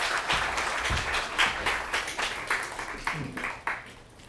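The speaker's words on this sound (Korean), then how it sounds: "박수로 맞아주십시오." An audience at a Korea University lecture claps to welcome the lecturer. The applause is a dense, fairly loud patter that thins out toward the end, with some voices mixed in.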